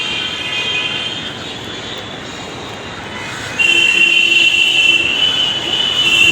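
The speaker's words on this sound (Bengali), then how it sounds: "পেছন দিয়ে একটা ট্রেন আসছে মালগাড়ি" A freight train passes at a railway station, a steady rumbling rolling noise that grows louder partway through, with a high metallic wheel squeal rising over the rumble in the later seconds.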